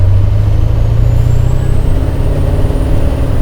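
A 1000-horsepower KAMAZ truck accelerating hard, its loud, steady low engine roar and drivetrain drone filling the whole stretch up close, with a faint rising whine above.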